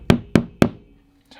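Three sharp, evenly spaced taps as Fischer DuoPower wall plugs are knocked into insulated plasterboard, close and loud, followed by a short pause and a faint rustle.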